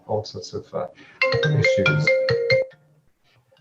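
A mobile phone ringtone rings loudly for about a second and a half as a repeating melodic tone, cutting in after a person's speech and then stopping abruptly.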